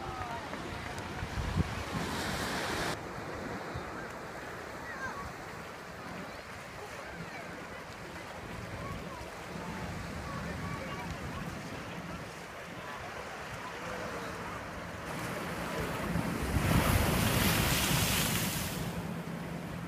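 Waves wash onto a beach in Tenerife with steady surf roar and gusts of wind buffeting the microphone, swelling louder near the end, and no voices stand out.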